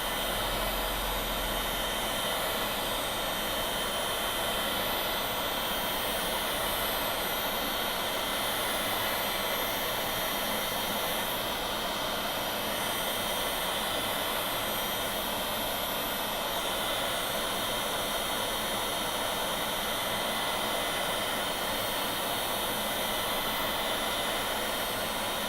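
Hot air rework station blowing steadily onto a Samsung tablet circuit board to reheat it during charging port repair, a loud continuous rushing hiss with no break throughout.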